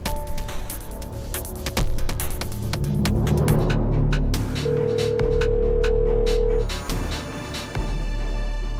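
A telephone ringback tone while a call is being placed, a steady electronic tone sounding over a low hum and background noise, fairly clear and continuous for several seconds.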